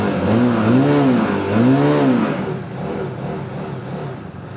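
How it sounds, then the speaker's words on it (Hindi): A 250cc sports bike with an under-belly exhaust revs up twice, each throttle blip rising and falling, then settles into a steadier idle close by. "अब थोड़ा सा रेव करते हैं इसे।"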